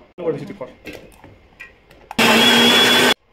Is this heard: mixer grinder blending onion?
yes